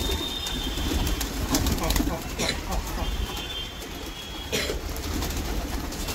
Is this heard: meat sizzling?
no